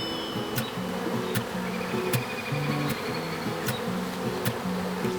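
Honey bees buzz in a bee trap: a loud, close, continuous drone with slight wavering in pitch, dotted with faint clicks and knocks.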